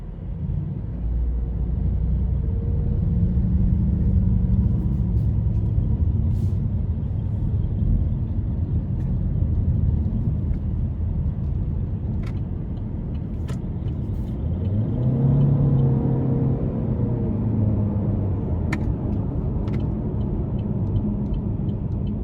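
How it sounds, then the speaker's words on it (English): A 2021 Chevrolet Malibu RS with a 1.5 turbo engine and CVT accelerates and then brakes. A steady, loud road and engine rumble rises with revving partway through, with no voices. "So that was just a test of the acceleration and the braking"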